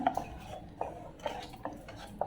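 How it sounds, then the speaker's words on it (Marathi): A spoon stirring Maharashtrian buttermilk kadhi in a pot over low heat, giving a few light, spaced clinks and scrapes against the metal, quiet and close with no voices. "हे सगळं चांगलं मिक्स करूया थोडंसं हलवतच ह्याला उकळी आणायची आहे"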